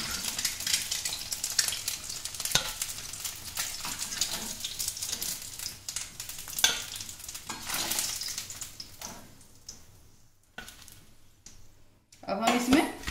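Eggs fry in oil in a pan for egg curry, giving a steady close sizzle with stirring scrapes that thin out near the end, then a brief burst of clatter, under intermittent talk.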